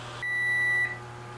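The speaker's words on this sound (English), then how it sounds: "Hear the buzzer? Time to take our angel food cake out of the oven." Oven timer buzzer signaling a finished angel food cake, a single steady electronic beep of under a second, clear and fairly close over a low kitchen hum.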